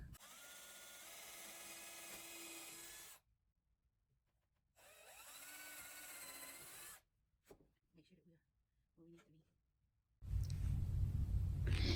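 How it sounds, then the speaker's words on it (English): A power drill bores straight through a homemade wooden trim router jig in two sustained bursts with a short pause between. Scattered handling knocks and a louder rasping noise follow. "what I'm going to do is just drill straight through."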